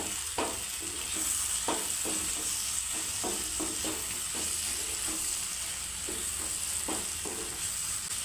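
Dried prawn and tomato curry sizzles in the pan as chili powder is stirred in, with a steady fry hiss under repeated scraping strokes of the spoon, close and fairly loud.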